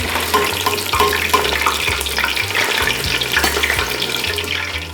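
Liquid strained off chicken pieces in a kitchen, a steady loud rush and splash of water running out continuously, close by with no talking.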